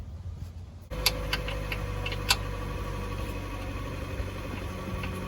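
A Harbor Freight torque wrench tightens a bolt during a transmission fluid change on an NC Mazda Miata. A few sharp, close clicks ring out over a steady low hum, and there is no speech.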